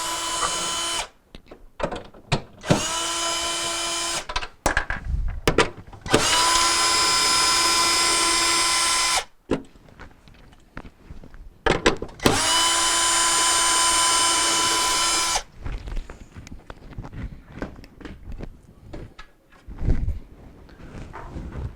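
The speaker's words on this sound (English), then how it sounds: "There's either going to be 2 or 3 screws down the side that you need to get in there and remove from the unit." A power drill whines in repeated bursts, some brief and others several seconds long, with quiet pauses between, as screws come out of a side panel on a Maytag refrigerator.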